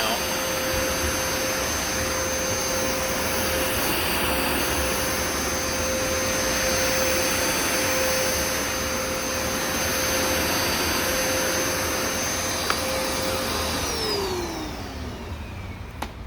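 A Hoover Smartwash carpet cleaner runs in dry mode with a loud steady motor whine and suction roar up close, and its pitch falls away near the end as it powers down.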